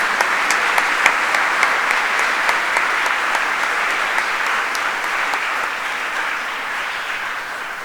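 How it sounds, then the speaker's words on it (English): Audience applause fills a school investiture ceremony honouring the principal at Rajkumar College, Rajkot, a steady, dense round of clapping with crisp individual claps standing out, holding strong throughout and tapering slightly at the end. "I would request you to join hands for a big round of applause for our principal Shri Yash Saxena ji."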